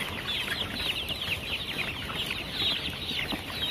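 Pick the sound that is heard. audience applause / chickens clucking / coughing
chickens clucking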